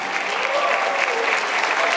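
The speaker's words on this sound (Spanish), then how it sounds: "Fuerte el aplauso para la bella y talentosa María Fernanda Peralta." An audience applauds a singer after a chacarera performance with guitar accompaniment, a dense sustained wash of clapping hands that holds steady and loud throughout without pause.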